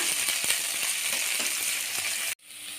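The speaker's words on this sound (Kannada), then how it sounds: "ಒಂದು ದೊಡ್ಡ ಈರುಳ್ಳಿಯನ್ನು ಸಣ್ಣಗೆ ಉದ್ದವಾಗಿ ಕಟ್ ಮಾಡ್ಕೊಂಡಿದ್ದೀನಿ ಅದನ್ನು ಹಾಕ್ಕೊಳ್ಳೋಣ ಫ್ರೈ ಮಾಡ್ಕೊಳ್ಳೋಣ" Sliced onion fries with cumin and green chillies in hot oil, giving a steady, close, bright sizzle with faint stirring ticks before it cuts off abruptly.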